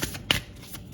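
Tarot cards riffle and slap as they are shuffled and one is drawn, a close, crisp papery flutter with a sharp snap near the middle.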